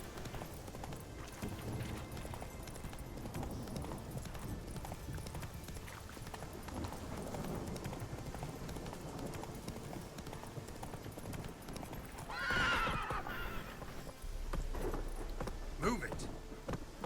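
Roach, Geralt's horse in The Witcher 3, gallops with a steady, quiet clip-clop of hooves under game music, briefly louder near the end, while a player talks over it.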